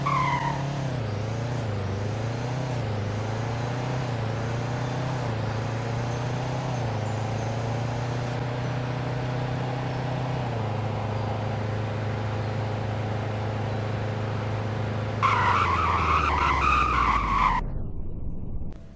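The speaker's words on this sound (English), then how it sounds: "And here's a 0 to 100 braking test." A car brakes hard from 100 on slippery snowy roads in the Roblox Greenville game, its engine note winding down steadily before a loud tire squeal near the end and then silence.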